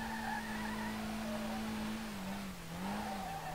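A Nissan Skyline R32 drifts in the racing game SLRR with a steady engine hum and a sustained tire squeal that wavers in pitch near the end, without talk.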